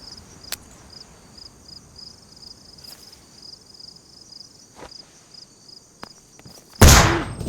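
A flashbang grenade bursts in DayZ on the Livonia map, a single sharp loud blast near the end after a stretch of quiet ambience with insect buzzing and a few faint clicks.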